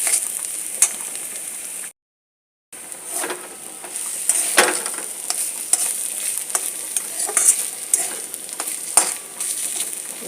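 A wok of grated taro (maan kochu) paste being stirred and fried in oil gives a steady close sizzle broken by repeated scraping strokes of the spoon, with a brief silent gap near the start.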